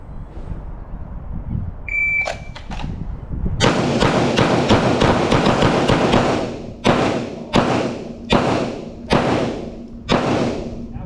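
FMK G3 pistol fired for eight rounds on an outdoor range, a dense burst of sharp shots followed by five distinct spaced reports, loud and close, with a brief beep before the string.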